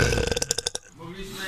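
A person lets out a short burp after gulping a drink while preparing a Polish solonez dish, a quick rattling belch with pulsing bursts that fades into quiet background noise.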